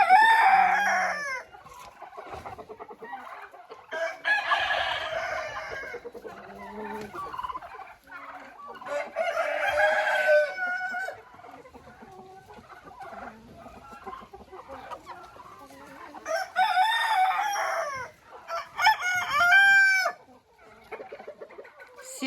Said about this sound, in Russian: Петух охраняет свою территорию. Голошейку прогоняет, смотрите.